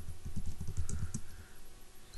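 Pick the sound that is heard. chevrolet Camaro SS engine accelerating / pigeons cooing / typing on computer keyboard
typing on computer keyboard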